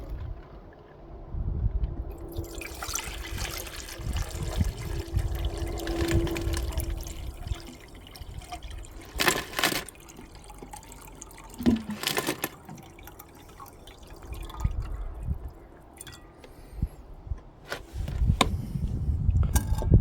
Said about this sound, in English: So we'll pour this off and get ready for filtering.